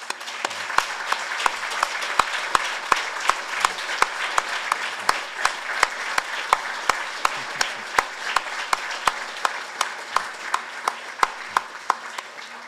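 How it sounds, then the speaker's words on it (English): Rhythmic, unified clapping from an audience at an Edmund Fitzgerald memorial ceremony, honouring military veterans, in steady beats roughly every third of a second, moderately loud and even throughout. "please stand and let's give them a round of applause"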